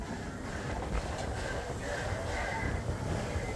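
A small zoo ride train moving along, a steady low rumble and rattle of wheels on track, with a voice talking over it.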